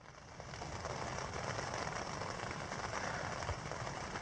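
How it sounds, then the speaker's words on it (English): Steady rain at a wilderness lake campsite in the Boundary Waters on a windy, cool August day, a dense constant hiss of drops on surfaces rising quickly and holding level, close and unbroken, with no voices. "It's raining."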